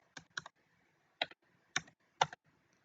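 A handful of separate keystrokes on a computer keyboard, close and crisp with short pauses between quick clicks, in an otherwise quiet room with no speech.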